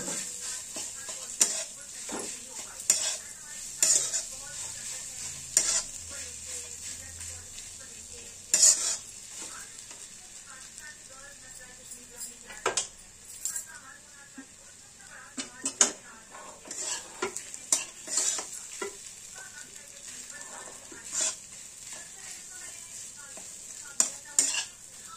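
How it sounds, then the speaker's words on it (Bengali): A spoon scrapes and clanks against a pan as potato filling with kasuri methi is stirred over a gentle sizzle, irregular bursts of metallic knocks and scrapes repeating throughout at close range. "কসুরি মেথি 1 চা চামচ দিয়ে ভালো করে আমরা নেড়ে নেব"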